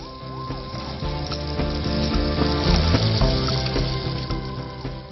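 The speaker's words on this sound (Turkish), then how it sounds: "Sonra bir ölçek tereyağı ekliyorum. Eriyinceye kadar karıştırıyorum." Butter melting into hot reddish-brown caramel as it is stirred gives a steady close sizzle and bubbling, with soft tonal background music running beneath it.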